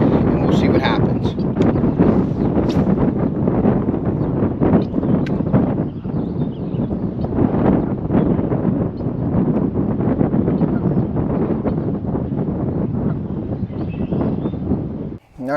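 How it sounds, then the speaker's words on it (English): Wind buffets the microphone outdoors during bass fishing near scum mats. It makes a loud, continuous rumbling roar with gusty surges throughout, ending in a sudden cut. "I was fighting the wind, so I tucked myself in a little bit."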